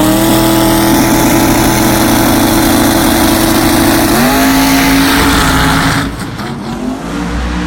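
A street car with a full billet engine at a dragway idles with a deep, rumbling, lopey burble, then shifts to a different tone and rises as it launches, loud and close, with no voices.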